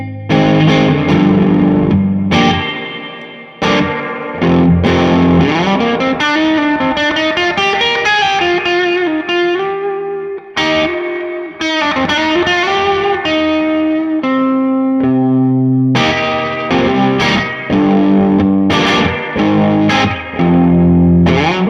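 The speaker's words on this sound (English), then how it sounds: "Now we've got spring reverb. This is basically like the spring reverb in your amplifier" Guitar chords and single notes played through an MXR Reverb pedal in spring reverb mode, loud and sustained with a gritty, washy tail ringing between phrases. No voices are heard.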